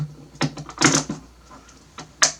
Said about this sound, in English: Make a cut like that